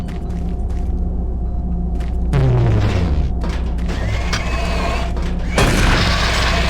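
Grenade explosions in the video game Doom 3: BFG Edition, two loud booming blasts with rumbling low tails, the second arriving a few seconds after the first, set against steady game background noise.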